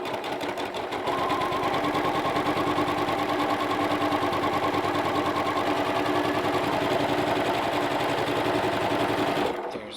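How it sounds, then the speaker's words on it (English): Sewing machine stitching down the edge of a quilt block, a close, rapid, even mechanical whir and patter running steadily for about eight seconds before stopping. "now I can stitch down this whole edge"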